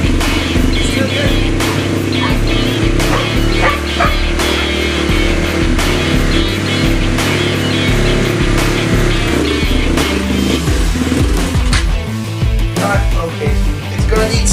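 Honda CBR motorcycle engine running after a fuel repair, a loud close continuous drone with uneven pulsing and slight revving, likely with voices partly mixed in.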